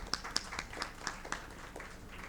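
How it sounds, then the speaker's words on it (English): Sparse, faint hand claps from a small audience welcoming panelists at an event on Pakistani artisans, a few scattered claps at irregular intervals fading out. "a round of applause welcoming our panelists"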